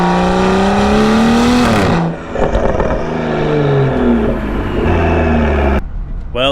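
A BMW 340i F30 fitted with a Valvetronic exhaust revs loudly up and down, the engine note rising, dropping off and climbing again close by, with no talk over it.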